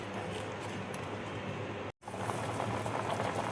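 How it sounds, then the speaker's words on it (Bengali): Fish pieces boiling in salted water with turmeric in a pot on a gas stove, a steady dense bubbling hiss with a brief dropout midway, no talking. "মাছগুলো দেখো সেদ্ধ করে নেব।"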